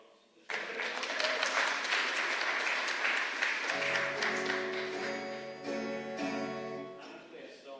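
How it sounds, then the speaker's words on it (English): Audience applause at a premiere performance, bursting in suddenly and sustained loud, with a sustained tuned instrument tone rising underneath partway through as the clapping gradually thins. "Get me a round of applause if I say it again"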